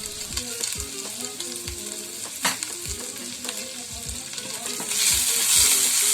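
Oil sizzles and crackles steadily as chopped garlic and ginger fry, with a few stirring clinks and scrapes, the hiss growing brighter and louder near the end.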